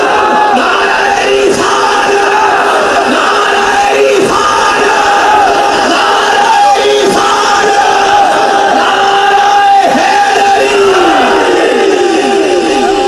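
A large crowd at a religious rally roars the Nara-e-Takbeer slogan in loud, repeated bursts, voices massed and close, each shout swelling and falling in a steady call-and-response rhythm.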